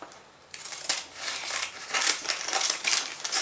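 Scissors trim the edge of cellophane wrapping on a boxed Easter colomba cake, a run of close crisp snips and crinkles repeating in a steady rhythm with no talking.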